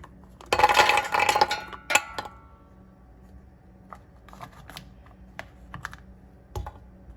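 Soaked almonds and a date dropped into a Mio Mat plant-based milk maker: a loud rattling pour of nuts into the container, then sparse light clicks and taps, close up.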